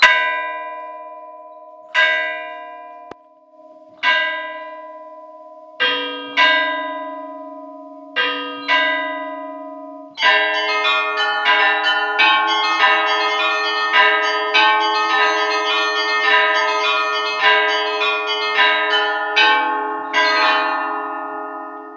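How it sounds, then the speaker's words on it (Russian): Russian Orthodox church bells ringing a perezvon at a bell-ringers' school in Irkutsk, struck in sequence from largest to smallest, seven strikes per bell, single resonant strikes with long decays giving way to dense, overlapping chiming. "Последовательно от самого большого колокола к самому маленькому по 7 ударов в каждый"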